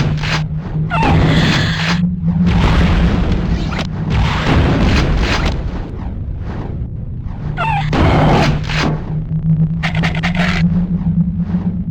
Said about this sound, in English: I'll take her out with the super shotgun.